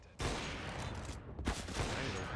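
Rapid CZ pistol fire from Counter-Strike on the Cache map, a dense burst of loud close shots that stutters briefly and resumes, with crowd-like game noise underneath.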